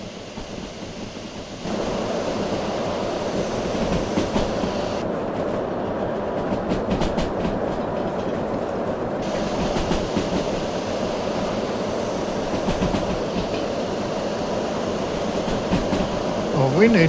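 Steam locomotive running in the Derail Valley train simulator, a steady rolling rumble with faint rhythmic rail clatter, continuous and fairly loud throughout.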